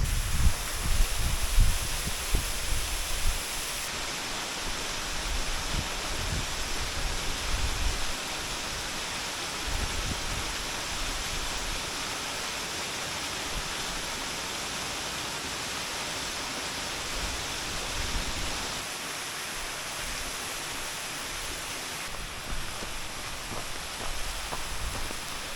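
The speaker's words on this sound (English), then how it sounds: "Well, that's the waterfall done." Whorneyside Force waterfall pours in a steady, close, full rushing roar that holds evenly throughout, a little louder and rougher in the opening seconds, with no voices.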